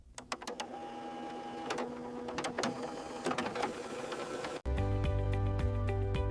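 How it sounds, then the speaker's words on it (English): A Canon PIXMA printer runs a nozzle check and printhead cleaning cycle, with rapid mechanical clicks and whirring carriage movements, then a louder steady motor hum near the end, close and alone. "run a nozzle check and printhead cleaning cycle from the printer maintenance"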